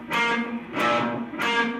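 Distorted electric guitar plays the opening of a song through a gained-up amplifier, three loud, ringing struck chords about two-thirds of a second apart, each sustaining and fading before the next.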